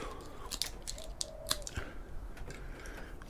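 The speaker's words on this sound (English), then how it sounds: "So just cut away this wire" Wire being snipped out of a microwave during scrapping: a few sharp, quiet clicks and crunches of the cutters spaced across a few seconds, close by, with no talk.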